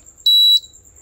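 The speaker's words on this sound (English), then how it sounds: "when I do turn on the power, there's a beep" A single clear electronic beep, about a third of a second long and high-pitched, sounds from VRF air-conditioning equipment as its power is switched on, alone against a near-silent background.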